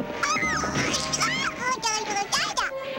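A cartoon cat meows in a Smurfs episode, a few rising and falling vocal cries over background music and a voice.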